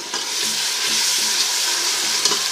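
Tomatoes sautéing in a pan for aloo palak, giving a steady, close, bright sizzle with soft stirring strokes throughout and no talking.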